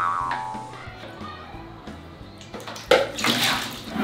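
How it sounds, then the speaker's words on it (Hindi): Water poured and splashed during bathing, irregular splashes and pours over a hollow background, louder bursts near the end, with no voices. "हम ना इतना ही पानी यूज करते हैं नहाने को।"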